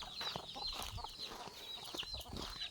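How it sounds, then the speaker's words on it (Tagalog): Chickens cluck steadily and fairly close, with a busy farmyard bustle behind them and no talk over the calls. "Mga chicken. Mga chicken. Mga chicken."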